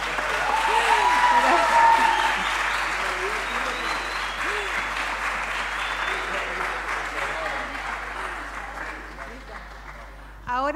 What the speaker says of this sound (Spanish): Y un aplauso para Esteban Giuliani,